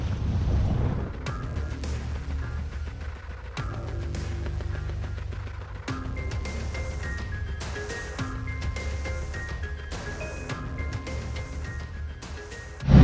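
Sailboat motoring into a channel on the approach to Marina Hemingway in Cuba with its sails down, giving a steady engine rumble mixed with wind buffeting and wave wash that stays fairly loud and even throughout, with no talking.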